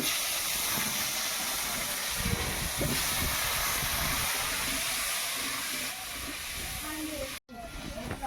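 Large cut potatoes dropped into hot oil give a loud, dense, continuous hiss and sizzle close by. It eases slightly near the end, with a brief dropout.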